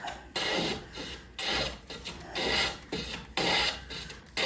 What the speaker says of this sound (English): Perry's now using what we call the Cooper's joiner